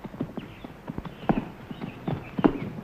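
A horse's hooves clop along at a walking pace outdoors on the way to Camelot in a 1950s knightly adventure, giving a steady, moderately near series of hoofbeats with no speech over them.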